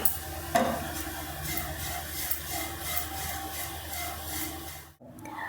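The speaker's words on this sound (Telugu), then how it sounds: "మనకి ఇంకొక 10 నిమిషాలు కనుక ఫ్రై చేసుకున్నామంటే మనకి ఈ మునగాకు అనేది చక్కగా క్రిస్పీగా అవుతుంది" Drumstick leaves dry-frying in a pan until crisp produce a soft, steady sizzle with rhythmic stirring swishes throughout, with no talking.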